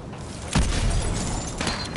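Frag grenade blast in Call of Duty: Modern Warfare 2 Remastered, a single loud boom with a low rumbling tail that lingers amid gunfire-like noise.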